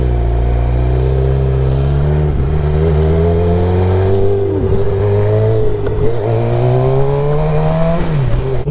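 A Suzuki GSX-R600 motorcycle engine is revved hard and held high nearby, the loud note climbing in steady sweeps with a couple of brief dips between pulls, no one speaking.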